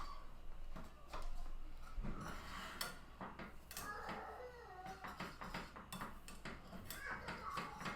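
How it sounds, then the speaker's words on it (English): Almond flour is whisked into melted butter in a pan, producing a quiet series of clinks and scraping taps of a whisk against the metal, close and irregular. "you're going to whisk in 1/4 cup of almond flour"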